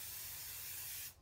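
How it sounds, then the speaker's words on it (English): A can of 505 spray glue hisses in one steady, close burst over quilt layers during basting, then cuts off abruptly into near silence. "I don't know if there's other kinds of spray glue. 505 is all I've ever used."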